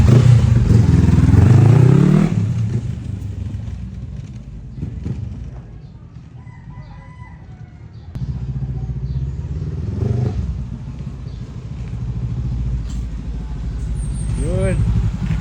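A Honda CB500X motorcycle engine runs in a custom shop during a test after a head gasket repair and oil change. It rumbles loudly at first, then settles into a steady idle with shifts in revs.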